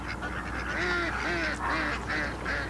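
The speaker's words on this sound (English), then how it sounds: "And she asked me to take care of her ducks." Ducks kept by a neighbour honk and quack in a few short repeated calls, moderately loud against a steady low background hum, with no talking.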